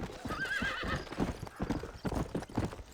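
A horse in the Red Dead Redemption game trots with quick rhythmic clip-clops while letting out a clear whinnying neigh, fairly close and prominent.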